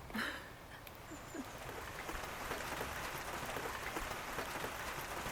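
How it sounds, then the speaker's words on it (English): Light rain falls outdoors by a front porch, a steady soft patter of drops spread across the whole clip with a few faint scattered sounds and no talk. "It's raining just a little bit."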